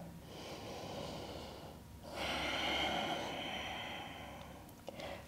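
Slow, deep breaths during a yoga flow: a long airy inhale, then a fuller exhale through the nose, close and soft with light rustling.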